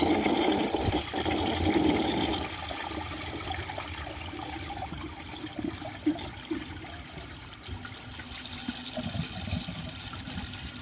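Cadet toilet flushing a washcloth, grocery bag and dish towel together, a close rushing gurgle of water that swells briefly, then settles into trickling and refilling.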